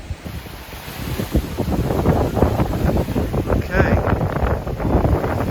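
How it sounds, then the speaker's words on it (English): Strong wind in the aftermath of Hurricane Ian buffets the microphone near a lake, a steady loud roar with gusty surges throughout, while a person speaks briefly. "the wind has picked up a bit"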